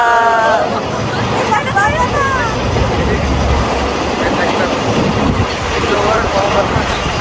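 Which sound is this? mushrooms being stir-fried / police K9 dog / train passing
train passing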